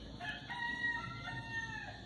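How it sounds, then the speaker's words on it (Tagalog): A rooster crows once, a loud, drawn-out call close by in Sagada, Philippines, with some background noise underneath. "Oh, may manok."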